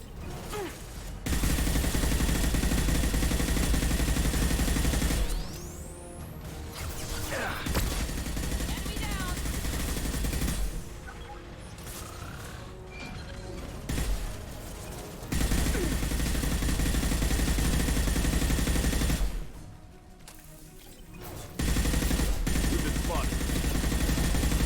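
Repeated gunfire in a Mass Effect 2 shootout, loud sustained bursts with brief lulls, mixed with game noise and a voice talking over parts of it.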